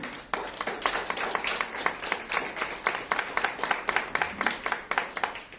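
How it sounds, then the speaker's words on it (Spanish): A small church congregation claps together in a quick, rhythmic burst of applause that carries on steadily without talking. "Dale ese aplauso al Rey."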